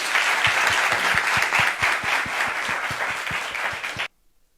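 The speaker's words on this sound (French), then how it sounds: "Applaudissez-les, s'il vous plaît." Audience applause at a gathering, dense clapping with a steady rhythmic beat running through it, loud and close, ending abruptly into near silence.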